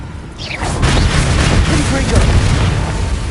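A Bombarda explosion spell bursts in the Hogwarts Legacy video game, a loud booming blast that swells early and rumbles on densely through the whole stretch amid continuous game effects.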